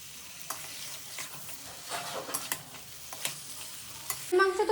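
Goat meat being stir-fried in a pan: close, continuous sizzling under busy stirring and scraping, ending in a brief metallic clink.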